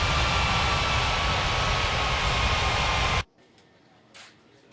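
Aircraft taxiing at Gran Canaria airport, an ATR 72 or A319, a loud steady broadband engine roar that cuts off abruptly partway through, leaving near silence with a faint brief sound afterward.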